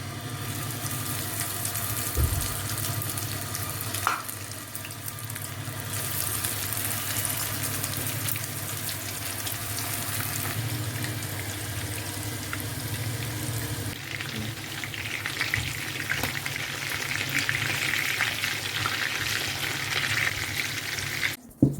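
Meat cutlets frying in oil, a steady even sizzle that runs the whole time at moderate loudness, with a couple of faint clinks and no talking.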